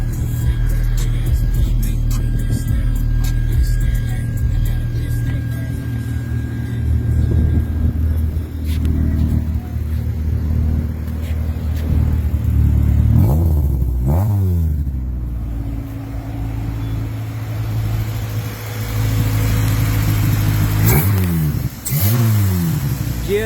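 Restored Honda CRX Si with a dual overhead cam VTEC GSR engine, idling loudly up close and then revving in repeated sweeping climbs and drops, with two sharp revs near the end.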